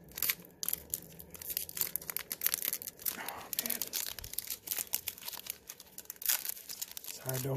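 A pack of 2020 NFL Optic football trading cards is torn open by hands in black gloves, giving a close run of ripping, crinkling foil wrapper and card shuffling in quick bursts, with someone talking over it.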